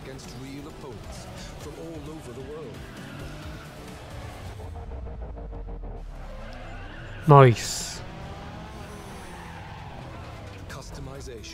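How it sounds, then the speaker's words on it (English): Racing car engines in a video game rev and drone steadily with a sharp tire screech near the middle, and a voice speaks briefly over the roar. "Don't you just love that sound of the engines and the revving of the engines?"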